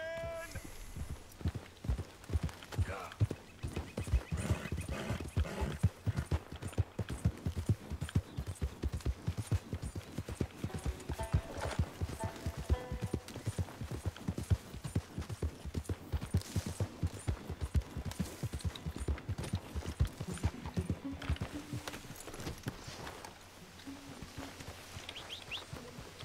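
Horse hooves clip-clop steadily in the Red Dead Redemption 2 game, a quick continuous rhythm of close, fairly quiet strikes lasting the whole stretch, with a few scattered bursts and faint background sounds mixed in.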